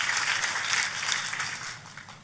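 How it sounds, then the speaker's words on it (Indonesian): Congregation applauding during an evening church prayer service, a steady wash of many hands clapping at moderate volume that fades slightly toward the end. "Boleh sekali lagi kasih tepuk tangan yang paling meriah?"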